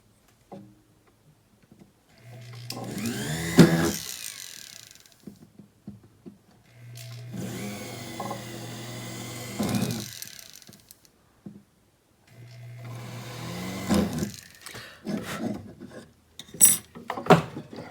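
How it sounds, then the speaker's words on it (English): Three separate bursts of high-pitched whirring and grinding from a small drill biting into metal for earrings and a pendant, with quiet pauses and light clinks between them. "and then I'm going to drill my holes."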